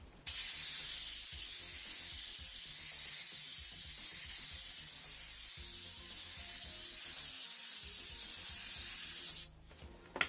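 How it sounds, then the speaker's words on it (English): An airbrush sprays light reddish brown paint in a medium coat for wood graining, giving a steady close hiss that starts abruptly and runs unbroken for about nine seconds before cutting off. "We're going to spray that in, maybe a medium coat."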